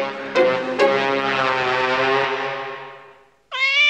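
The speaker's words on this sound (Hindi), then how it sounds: "बिल्ली तुम्हारे घर में घुसकर आती है और तुम्हें डराती है" A cat gives a long, drawn-out meow, fading away, followed by the start of another meow close by.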